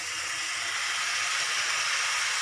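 Carrots hitting a hot pan for a carrot, green pea and potato sabji give off a steady, loud broadband sizzle and hiss that holds evenly throughout, with no voices.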